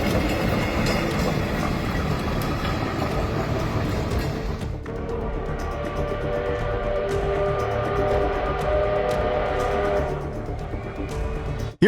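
A train runs along the rails in Japan with a sustained loud rumble and tonal wheel ringing that eases partway through, then continues steadily until an abrupt end.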